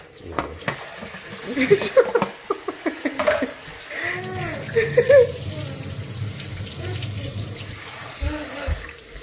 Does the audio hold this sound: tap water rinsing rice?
yes